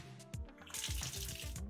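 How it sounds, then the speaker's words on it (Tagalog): Strong water flow from an outdoor faucet on a townhouse balcony in Quezon City, a forceful gushing splash with a few sharp thumps at the start, close by and with no talk. "Ayan ang lakas ng tubig."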